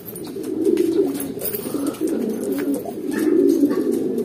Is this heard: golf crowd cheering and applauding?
no